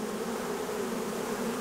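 Honey bees buzzing steadily around a swarm with its queen, a dense continuous hum close by with no talking.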